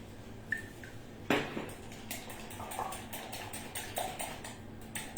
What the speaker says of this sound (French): On va mélanger tout ça toujours avec notre cuillère magique